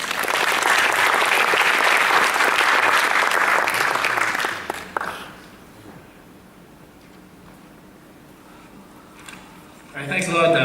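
Audience applauding after a talk, a loud dense wash of clapping that fades out midway, leaving quiet room tone before another burst of clapping rises at the end.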